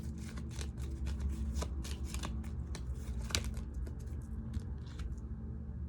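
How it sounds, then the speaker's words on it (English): Tarot cards being shuffled by hand, a rapid series of crisp riffling snaps and flicks, close and fairly quiet, with no talking. "Let me shuffle one more time, and I might get a tarot card too."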